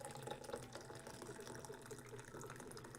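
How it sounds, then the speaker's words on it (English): Liquid pouring steadily in a Minecraft game, a continuous watery trickle and gush with a faint bubbling texture, lasting the whole few seconds at moderate level. "Let me try and pour tea here."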